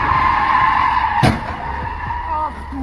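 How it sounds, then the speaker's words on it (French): A speeding supercar's tires skid with a sustained loud screech before a head-on collision with an oncoming vehicle, a sharp impact-like burst cutting through midway, followed by lower rumbling and faint voices. "Un automobiliste en excès de vitesse entre en collision frontale avec un véhicule venant"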